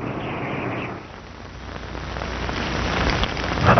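Steady rain falling onto a surface outdoors, a dense continuous hiss that swells slightly louder toward the end, with no voices or other sounds.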